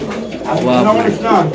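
Pigeons coo softly in low, throaty warbles, a couple of close calls in quick succession.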